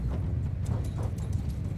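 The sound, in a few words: horse galloping toward player in Mount & Blade II Bannerlord video game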